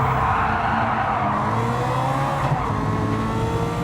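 A Caterham race car engine in Gran Turismo 7 at Brands Hatch, holding a loud, steady drone with rising and falling harmonic pitch as it revs through the gears, heard alone without talk.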